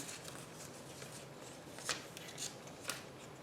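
Scissors trimming the top edge of paper for a junk journal, a few quiet snips and rustles against a faint room hush, close and soft.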